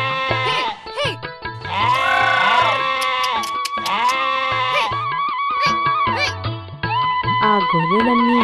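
Sheep bleat repeatedly and loudly, wavering calls overlapping one another from a flock being led out, close by and continuous with no talk.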